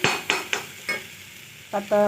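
A spoon scrapes and stirs through poori masala potato curry in a pan, a few quick strokes with light sizzling underneath.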